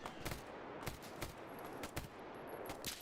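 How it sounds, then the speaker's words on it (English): Bandit gunfire in the GAMMA mod of a shooter game: scattered sharp shots cracking in uneven bursts over a steady noisy background, fairly quiet overall. "Bro, why are the bandits shooting at me?"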